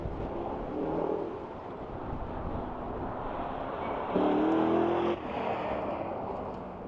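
A Porsche sports car engine revs in an outdoor street setting, a steady broad motor roar with a louder, brighter surge of revving for about a second near the end, mid-distance and without talk.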